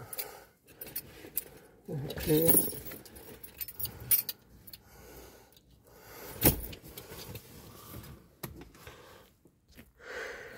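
Car keys for a Renault Clio 3 diesel jangling close by in bursts, with rustling and knocks and some faint handling noise between shakes.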